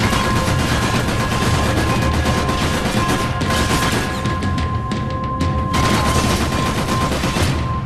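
Sustained gunfire in Max Payne 3 rattles on for about eight seconds, a dense, loud fusillade of rapid shots layered over a steady mechanical hum, briefly dipping before resuming at full intensity.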